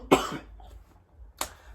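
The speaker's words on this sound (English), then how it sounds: "Sorry about the coughing." A sick man lets out two separate coughs about a second and a half apart. The first is harsh and throaty, the second brief and quieter, with a quiet room between them.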